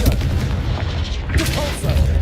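A Confringo spell going off in the video game Hogwarts Legacy, heavy booming blasts with a rumbling low end, loud and close, one after another over a continuous game soundscape.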